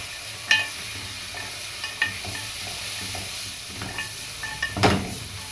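Rice-pot ingredients with salt, two lemons and a cinnamon stick being stir-fried in a pan, giving a steady close sizzle with a few sharp scraping clicks of the spoon at irregular moments.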